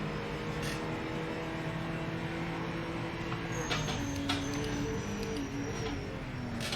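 A race car engine roars steadily through Okayama Circuit in the Project Motor Racing game, its pitch climbing and dropping with throttle and gear changes, loud and close with no voices.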